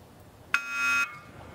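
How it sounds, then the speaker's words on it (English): An electronic start beep sounds once at a rowing race, the World Rowing Championships PR3 men's pair final, a sustained tone of about half a second rising abruptly over quiet background. "With the electronic beep, the race kicks off"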